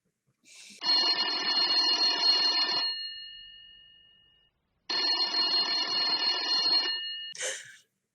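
A telephone bell rings in two long, loud electric trills separated by a pause of silence, with no voices over the ringing.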